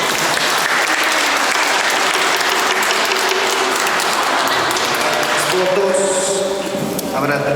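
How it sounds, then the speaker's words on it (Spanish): Wedding guests applaud the newlyweds at the end of a church ceremony, a dense, loud wash of clapping that fills the room steadily and tapers slightly near the end. "Fuertes palmas para ellos."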